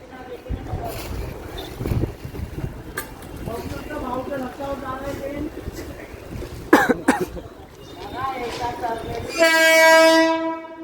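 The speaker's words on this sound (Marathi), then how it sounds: "ही बघा ट्रेन आलेली आहे." An empty train in the Konkan region rolls in close by with rumbling, then a loud sustained horn blast at the end; a voice and a cough are heard earlier.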